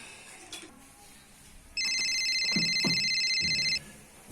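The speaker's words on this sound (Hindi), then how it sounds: "प्रियंका, इसे भी अभी फोन करना था, सब इकट्ठे मेरे छाती पे मूंग डलेंगे।" An electronic phone ringtone trills steadily for about two seconds, bright and close, with some quiet household sounds around it.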